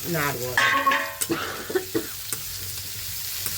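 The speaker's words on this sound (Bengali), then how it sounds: "সবজিগুলো দিয়ে একটু নাড়বো" Spoon stirring chopped vegetables, including spinach, frying in a pan, with a sizzle and a few scraping stirs close by that taper into quieter frying; no one speaks.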